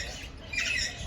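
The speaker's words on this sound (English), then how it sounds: "Apparently this is a talking parrot." A talking parrot at a rescue parrot aviary squawks in a harsh, bright, close burst that swells toward the end, with no one speaking.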